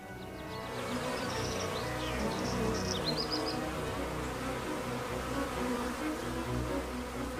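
Honeybees buzzing among flowers in an open field as they drink nectar, a steady soft hum with a few faint bird chirps in the background.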